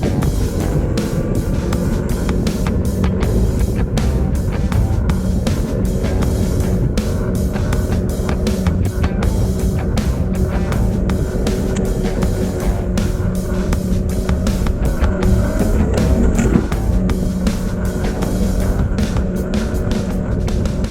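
Meepo Cyclone electric skateboard on 110mm airless rubber wheels rolling over ground outdoors, a loud continuous rumbling roar with dense rapid clatter from the rough surface and pine cones.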